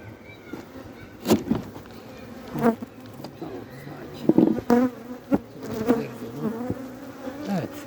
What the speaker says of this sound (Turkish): Arılar biraz sinirliydi.